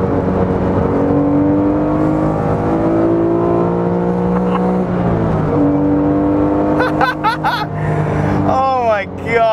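A Porsche 911 GT3 engine revs hard past 6000 rpm and climbs steadily in pitch, loud and close, with a voice speaking briefly near the end.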